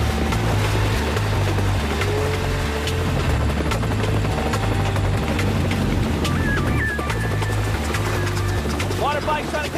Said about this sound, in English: Water bike's trying to catch up with the helicopter.